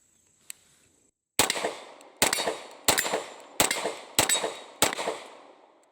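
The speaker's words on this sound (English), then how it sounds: "Let's go ahead and put her ears back on, fire a few more rounds through her" A Beretta APX A1 pistol fires six loud, sharp shots at a steady pace roughly a second apart, close to the listener, each followed by a ringing decay, after a faint click and a short silence.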